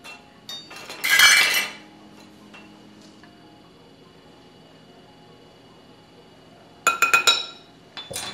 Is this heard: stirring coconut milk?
yes